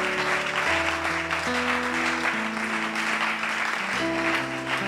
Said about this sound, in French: On va acclamer Jésus encore.